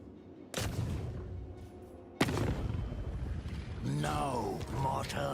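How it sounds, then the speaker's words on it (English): Mortar fire in the strategy video game Khazrak lands as several heavy booming impacts with sharp onsets, each followed by rumbling decay. A pitched whistling or mechanical whine rises near the end, and someone talks over it. "No, mortar, no."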